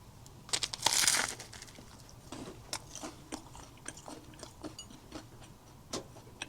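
Someone bites into a ham sandwich, giving a loud crunch followed by a series of softer chewing and crunching sounds close by.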